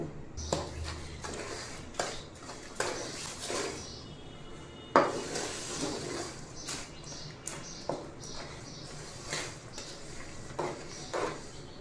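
A spoon clinks and scrapes against a pan as raw mango pickle, salted and sweet-sour-spicy, is stirred: a steady run of close metallic knocks and rattles with a few sharper clanks, with no talking.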